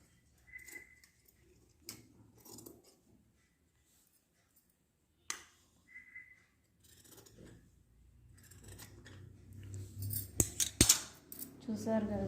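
Scissors cut through cloth in a few sharp, separate snips between quiet pauses, with soft handling rustle and a brief cluster of clicks near the end.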